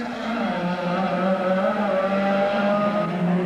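Rally cars race through a stage of the Donegal International Rally in 2000, a loud, steady engine roar holding close and continuous with a slightly rising pitch and no voices over it.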